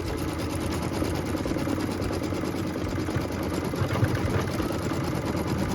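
An embroidery machine stitches down an applique piece with a rapid, steady mechanical chatter of needle strokes, close and continuous, with a constant motor hum beneath.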